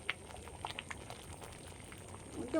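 Khichuri bubbling in a pot after the spices go in, a soft, continuous simmer with scattered small pops and plops, faint and close, without speech.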